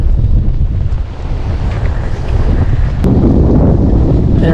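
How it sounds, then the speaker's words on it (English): Strong, gusty wind buffets the microphone on a shore during land fishing, a constant loud roar of wind noise with no clear voices. "it's crazy windy."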